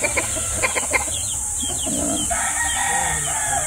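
A battle stag rooster gives a few sharp clucks, then crows loudly and close by, on a farm with a steady background hiss.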